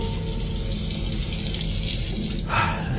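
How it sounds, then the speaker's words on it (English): A kitchen faucet runs steadily close by, a constant hiss of water that shifts in tone near the end as the flow changes. "the kitchen faucet activated repeatedly by itself"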